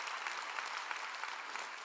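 Church congregation applauding during a Korean sermon: a dense, steady wash of many hands clapping at an even level, with no voices over it.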